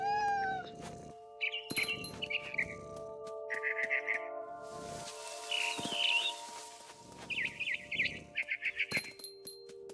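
A cat meows repeatedly in the video game What Remains of Edith Finch, producing a series of loud, close, drawn-out mews and short calls over a faint musical tone, with no talking.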